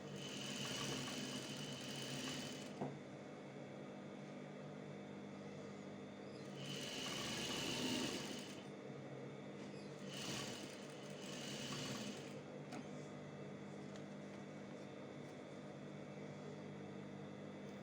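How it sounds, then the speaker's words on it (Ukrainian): A sewing machine stitches a roll zipper onto fabric in three distinct runs of fast, steady mechanical whirring, each a couple of seconds long, separated by quieter pauses with a faint background hum. "Настрочуємо шов пришивання."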